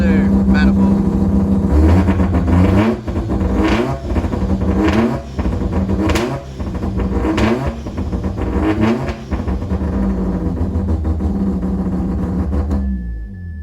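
Mazda 13B rotary engine fitted with an Xcessive Racing manifold, idling with a loud, close, buzzy drone and a few brief revs that swell and drop, with a voice talking over it.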